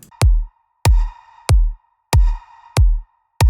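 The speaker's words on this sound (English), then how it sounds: "Then we have this snare on top of that, or a kind of percussion rather" Snare-like electronic percussion hits drenched in lush, spacious reverb layer over a steady deep kick, six loud strikes evenly spaced with a sustained ringing wash between them.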